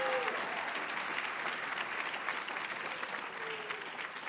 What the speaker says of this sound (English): Let's give our MC a big round of applause for the fine job that she